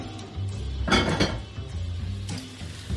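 Chopped chestnut mushrooms are tipped into a hot pan with a clatter of pan and utensil and a soft scraping stir, then a faint sizzle. The sounds are close and moderately loud, with a second lighter clink near the end.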